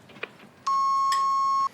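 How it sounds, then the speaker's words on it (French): A single steady electronic beep from a home answering machine sounds for about a second after the outgoing greeting, clear and sustained over faint room noise. "Laissez votre message après le bip sonore"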